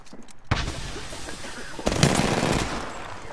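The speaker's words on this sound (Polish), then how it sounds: "Strzelam do obiektów." Rapid automatic gunfire in Apex Legends, loud and close, in two dense sustained bursts with only a brief gap between them.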